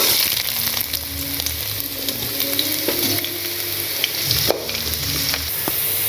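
Ginger pieces frying in hot oil for a Tamil pirandai, mint and coriander thuvaiyal, giving a steady, close, dense sizzle with occasional stirring clinks and scrapes throughout.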